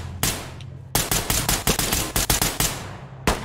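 Rapid bursts of loud, close gunfire shoot out a door in the video game Ready or Not, an opening shot, a short pause, then a quick irregular string of about a dozen cracks and one final shot.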